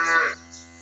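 A single short moo from cattle on a farm at breakfast time, fairly loud and close, a brief tonal call that fades quickly into a low hum.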